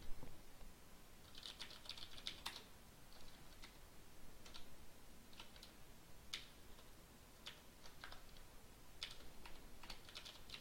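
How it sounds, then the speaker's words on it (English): Typing on a computer keyboard to generate input for debugging code, heard as irregular bursts of close, crisp key clicks with short pauses between flurries, no voices. "I will use my keyboard to generate the input"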